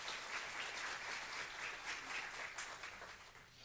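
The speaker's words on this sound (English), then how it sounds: "I'd like to give Bob a recognition and a round of applause for everything he does for us." At a teacher of the year ceremony, an audience applauds with steady, moderately loud clapping that carries throughout and eases off slightly toward the end.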